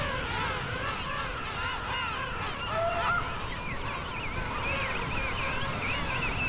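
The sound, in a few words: king penguins calling in St Andrews Bay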